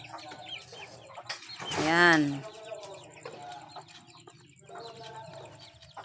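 Backyard chickens cluck and call close by, with one loud drawn-out squawk in the middle and softer clucking around it, while someone talks over them.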